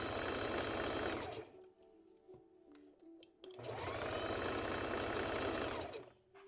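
A sewing machine stitches around a full circle on a dress in two sustained whirring runs separated by a pause filled with faint clicks and handling noise, close and steady.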